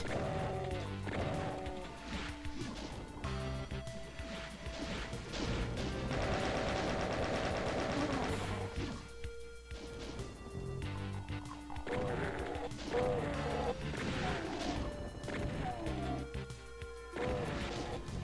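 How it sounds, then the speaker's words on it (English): Shotgun blasts and crashing impacts as imps are killed in the video game Doom, a dense run of loud, repeated game gunfire and smashing effects over about eighteen seconds with little talk. "I really appreciate when imps die with one hit from the shotgun."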